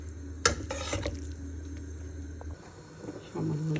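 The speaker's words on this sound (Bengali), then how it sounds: "এবার আমি হালকা এগুলোর সাথে মিক্সড করব।" Noodles, vegetables and chopped greens are stirred and tossed in a sizzling frying pan for Bangladeshi-style noodles, with scraping strokes and a quiet, steady frying hiss close by.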